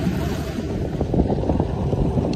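Strong wind buffets the microphone with a continuous low rumble and gusty roar, heard from a dinghy over open water with waves.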